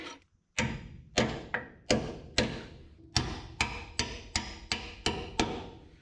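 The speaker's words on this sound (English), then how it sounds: "Little hammer persuasion, and we got her in" Metal hammer blows drive a bolt into a control arm on a 1963 International Loadstar truck, ringing out about a dozen times at a steady, quickening pace, sharp and close, each strike followed by a brief metallic ring.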